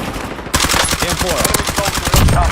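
M4 rifle fire in a tournament video game, a loud burst of rapid automatic shots starting abruptly and rattling on in a quick, even rhythm close up, with a voice speaking underneath.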